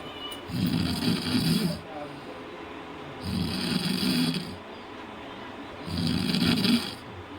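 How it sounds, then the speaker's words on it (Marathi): A man snoring loudly in a village house, three long rasping snores in a slow steady rhythm, each lasting over a second with quiet pauses between. "बघितला किती जोरा जोराने घोरतोय हा माणूस"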